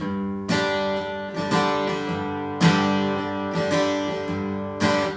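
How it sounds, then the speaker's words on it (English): An acoustic guitar plays a bluegrass rhythm with accents on beats two and four, bass notes alternating with sharper chord strums in a steady swinging pulse, close and alone. "And listen to what happens when I accent it."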